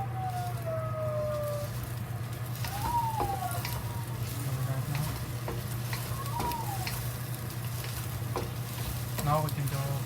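Eggs sizzle and scramble in a frying pan for tomatoes with scrambled eggs, a steady close hiss with occasional spatula scrapes and clicks against the pan, fairly quiet throughout.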